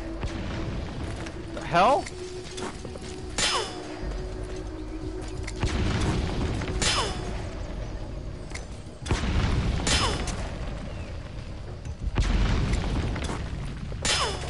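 A grenade is fired and explodes inside Metal Gear Solid V: The Phantom Pain, giving several loud booming bursts spread across the stretch over a steady game backdrop, with someone talking between the blasts.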